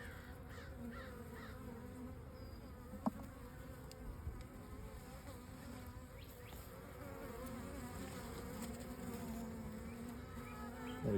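Honey bees buzz around a queen bee in a hive, giving a faint, steady, continuous drone close by with no talking.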